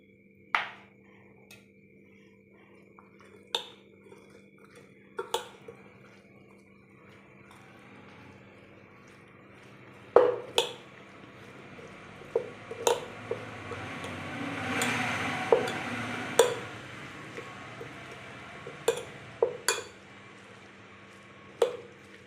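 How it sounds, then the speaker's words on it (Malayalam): Soft wet squishing and clicking as sandwich filling is stirred with mayonnaise in a bowl, scattered irregular strokes close by that thicken into a steadier churn midway, with a low steady hum behind and no talking. "നമുക്ക് മയണൈസായിട്ട് മിക്സ് ചെയ്യാം"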